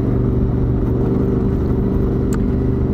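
A Yamaha XT660 Tenere motorcycle engine runs steadily and loudly up close, a constant mid-pitched drone with no clear rev peaks, heard alone without talk.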